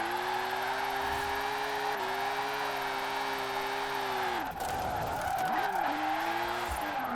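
A race car drifts in Forza Horizon 4 as its rear tires lose traction, giving a long steady tire squeal over a droning supercharged engine that dips and recovers midway through, loud and continuous with no voices.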